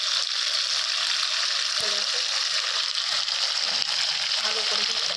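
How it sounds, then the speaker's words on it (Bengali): Potatoes frying and being stirred in a pan for a vegetarian paneer curry with cauliflower, poppy seed and peas. A constant bright sizzle fills the clip, with light scraping of the spoon underneath. "ভালো করে কষানো হচ্ছে।"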